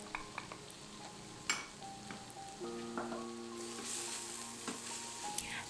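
Minced garlic, ginger, cayenne pepper, curry powder and tomato paste sizzle as they saute in an Instant Pot. The frying hiss is steady and moderately close, with scattered spoon scrapes and a few faint tonal beeps.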